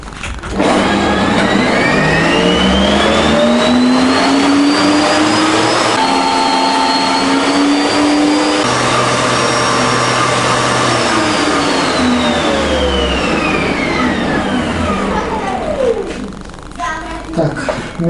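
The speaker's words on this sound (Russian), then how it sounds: "И теперь устанавливаем мясорубку. Включаем и начинаем поочередно все перекручивать." Electric meat grinder mincing horse meat and pork fat, a loud whining motor that rises and falls in pitch as chunks feed through, running continuously for many seconds before easing off near the end.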